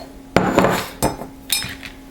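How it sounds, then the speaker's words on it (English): Cubes of glycerin soap dropped into a Pyrex glass bowl, three separate sharp clunks and clatters about half a second apart, close and fairly loud with no talking. "I'm just gonna cube this up and put them in my Pyrex"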